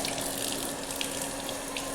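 A tap runs in a steady, close hiss of water splashing into a sink while hands are washed, unbroken and even from start to finish, with no voices.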